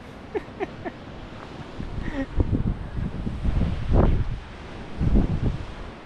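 Sea wind blows on the coast at Chidiyatapu in the Andaman Islands, buffeting the microphone in rough, uneven gusts that swell and fade, with a few faint bird-like chirps early on.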